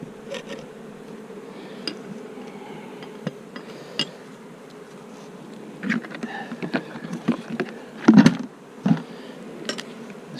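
Honey bees drone steadily beside a hive being split into nucs, with scattered clicks and knocks of frames and equipment that grow busier toward the end.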